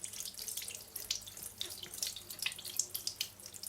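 Tap water runs steadily over a paintbrush with a silver ferrule as soap and acrylic paint are rinsed out, a continuous close splashing hiss at a sink with no talking.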